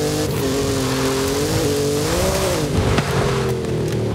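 Car engine revving steadily in Forza Horizon 5 while the vehicle drives off-road over rough ground, a continuous loud drone whose pitch rises and falls with throttle, with a faint knock near the end.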